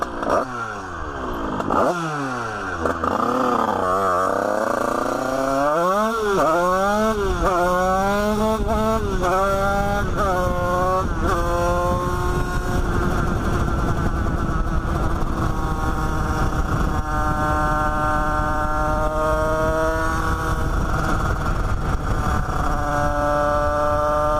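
A 70cc Bidalot moped engine revs hard while riding, rising and falling through several throttle blips, then holds a steady high drone close up, loud and continuous with no talk over it.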